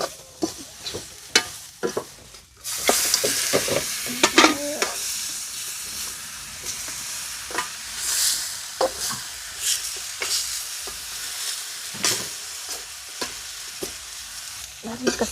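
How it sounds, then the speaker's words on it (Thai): Curry paste fries in a little oil in a pot, close sizzling and hissing broken by repeated scraping and stirring strokes, with a louder burst of sizzle as ingredients hit the hot oil. "ก็สิมาเจียว เครื่องแกง"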